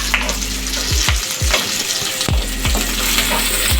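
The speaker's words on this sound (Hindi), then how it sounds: "अच्छे से इसको फ्राई करना है, गोल्डन ब्राउन नहीं करना, बस इसे सॉफ्ट करना है।" Chopped onions fry in a hot pan on the stove, cooked only until soft rather than golden brown, with a steady close sizzle broken by several sharp scraping stirs of a spoon against the pan.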